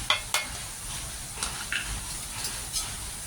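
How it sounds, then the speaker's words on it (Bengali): Spice paste sautés in a pan with a steady low sizzle, while a utensil scrapes and taps against the pan every so often, close and without voices. "তাহলে মশলাটা কষিয়ে নেব"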